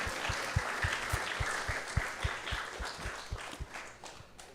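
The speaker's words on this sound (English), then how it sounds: "So let's give him a big round of applause." Audience applause at a Krishna Katha devotional gathering, a steady wash of many hands clapping with a regular rhythmic thump beneath it, sustained and fairly even throughout.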